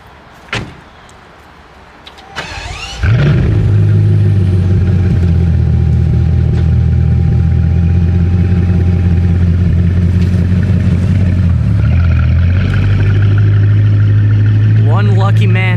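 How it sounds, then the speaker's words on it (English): A blue carbon Bugatti Chiron cold starts: after quiet moments and a clunk, the engine fires with a loud burst, then settles into a heavy, steady, deep drone that dips briefly and continues, with people talking nearby. "Looks like we're getting a startup on the car."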